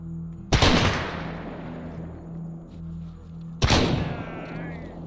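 Two loud, close gunshots from the Stalker video game, each with a sharp crack and long rumbling decay, about three seconds apart over a low steady ambient hum.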